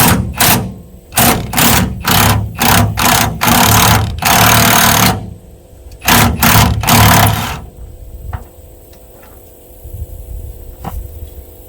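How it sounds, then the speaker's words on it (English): Diesel exhaust fluid pump on a farm machine purging its DEF lines after engine shutoff, a loud rapid mechanical buzzing in repeated bursts, then fading into quieter ticks and hum. "Sound you guys are hearing is the DEF coming back to the DEF, pulling the DEF out of the lines after you shut the engine off."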